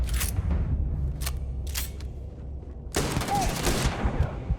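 Gunfire in the space game Starfield: a few sharp broadband shots in the opening seconds over a low rumble, then a denser, louder burst of rapid firing near the end, with no talk.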